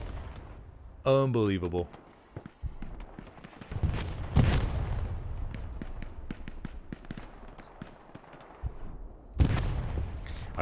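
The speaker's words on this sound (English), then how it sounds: "Artillery strikes called on the hard camp" Artillery shells pound in the World War II shooter Hell Let Loose during a competitive 36-versus-36 match, several heavy booms and scattered gunfire crackling near and far while a commentator talks.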